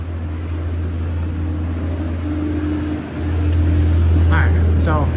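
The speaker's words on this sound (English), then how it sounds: "Alright, so a lot of traffic out here, kind of loud." Loud road traffic passing outside a garage, a steady low rumble of engines and tires that swells louder partway through, with a brief higher squeal near the end.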